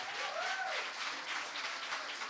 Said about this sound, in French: Est-ce qu'on peut applaudir monsieur et madame ?